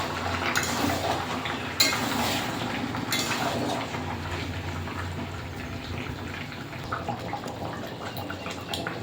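Meat fried with ground spice paste in a pot in a village kitchen makes soft, steady scraping and stirring sounds, with a few sharper clinks of the utensil early on.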